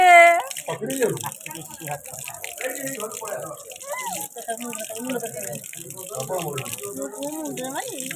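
Water runs steadily from a tap as a soft, continuous hiss beneath lively talk from adults and children.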